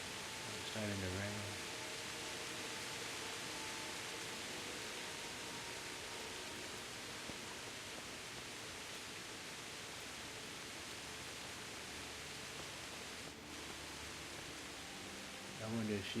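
Rainfall in the medieval world of Kingdom Come: Deliverance hisses as a constant, wide wash of noise, steady and moderately close, with short snatches of voice or game effects at the beginning and near the end.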